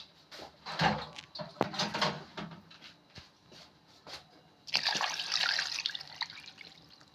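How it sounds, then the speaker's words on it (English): Water poured from a container into a pot of maize so the cobs are covered, a steady close splashing and trickling pour in the second half after softer dripping and handling sounds, with no talking. "I want to show you how much water I put, because this requires a lot of water"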